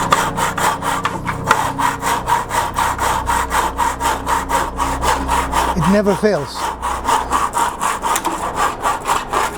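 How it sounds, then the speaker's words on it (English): A wooden dowel is hand sawn to length for a DIY paper towel holder, with steady rhythmic rasping strokes, close and loud, while a brief remark is spoken partway through. "we're going to cut the dowels to length"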